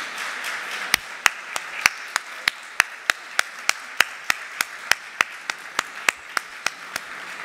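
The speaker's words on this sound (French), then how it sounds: "applaudissez toutes ces trajectoires, ces imaginaires, ces histoires" An audience applauding at the opening night of a Pecha Kucha event, sharp evenly spaced claps ringing out loudly, as if from one or a few nearby hands, over a faint room murmur.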